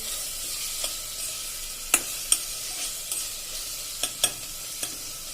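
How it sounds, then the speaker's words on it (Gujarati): Chopped onions sautéing with a spice paste in a pan for a green pigeon peas toṭhā, giving a soft, steady sizzle with sharp scrapes and clicks of a spoon stirring now and then. "હવે આને આપણે 3 થી 4 મિનિટ કાંદા સરસ ને બધું સંતળાઈ જાય ત્યાં સુધી આપણે ખાવા દેશું"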